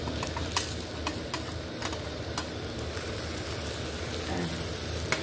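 A carrot patisapta crepe cooking in a pan over low heat gives a steady soft sizzle, with scattered light clicks and taps as it is flipped, close and moderately quiet.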